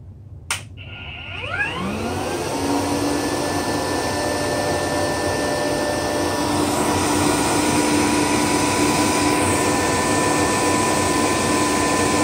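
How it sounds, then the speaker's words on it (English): A vacuum cleaner switches on with a sharp click and spins up to a steady, loud whine and rush of airflow from the hose end, sustained throughout with no talking. "There's the vacuum."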